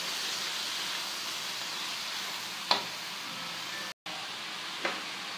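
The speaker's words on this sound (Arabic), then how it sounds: "كيف لاحظتو ما توقفتش على التحريك باش ما تحرق ليناش البصلة" Onions fry in a pan with a steady, close sizzle and hiss while a utensil stirs them, making two faint scrape-like knocks and a brief dropout in the sound.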